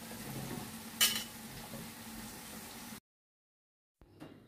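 Boiled potatoes are stirred into a ridge gourd curry in a pan, giving a steady low sizzle with a sharp utensil clink about a second in, then abrupt silence before a faint return.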